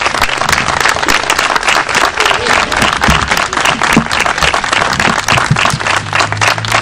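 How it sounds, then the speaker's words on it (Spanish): Strong applause from an outdoor crowd at the inauguration of a bust of President Hipólito Yrigoyen in a plaza in Zapala; loud, dense, continuous clapping throughout, with faint murmurs underneath. "le pido un fuerte aplauso para él."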